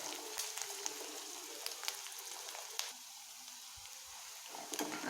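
Onion frying in a pan for spicy chickpea usal, a quiet steady sizzle with faint scattered crackles and pops, heard alone.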